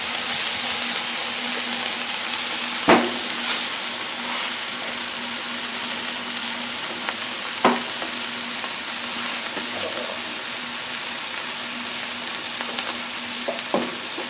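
Mushrooms frying on a Blackstone griddle give off a steady, close sizzle that runs throughout, broken by a few sharp clicks and taps from a utensil.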